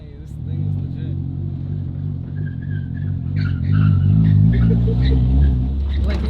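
A Nissan S13 240SX drift car engine with a welded differential idles roughly and revs up, a low rumbling drone that swells louder in the second half, with faint voices underneath.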